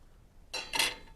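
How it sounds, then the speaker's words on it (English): Melted butter poured into a mixing bowl of milk batter while cooking, a brief soft splashing pour rising then fading, close and quiet with no talk. "I'm going to add the melted butter."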